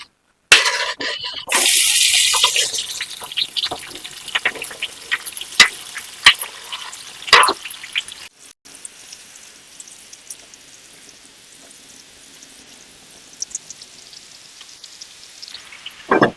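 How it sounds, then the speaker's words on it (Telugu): Tomatoes drop into hot oil in a pan, giving a loud burst of sizzling that fades to a quieter, crackling fry with scattered pops. "ఇప్పుడైతే టమాటా వేసుకోవాలి."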